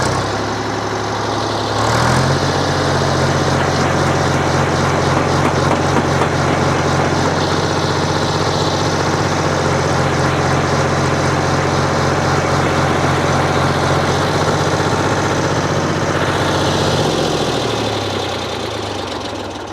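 A Ford Dexta 2000 tractor engine runs loud and close in low ratio first gear, a steady rough diesel drone with a throbbing knock that holds for most of the stretch, then eases off at the end.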